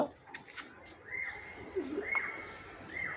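Pigeons coo in a rooftop pigeon loft that is still under construction, with soft repeated calls and a few brief chirps rising over steady low background noise.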